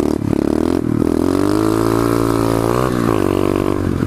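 A pit bike engine revs hard and loud while the rider pulls a wheelie, its raspy note climbing, dipping near the three-second mark, then holding high and close.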